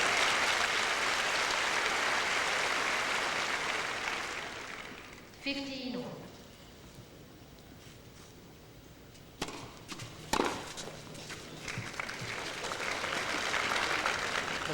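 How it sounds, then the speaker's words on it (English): Tennis crowd at the 2001 Charleston final applauding an error, broad loud applause that fades out, then a quieter stretch with a sharp ball strike and scattered noises before crowd noise rises again. "the fans are applauding an error"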